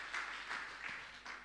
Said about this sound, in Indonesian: Tepuk tangan bagi Tuhan Yesus yang luar biasa.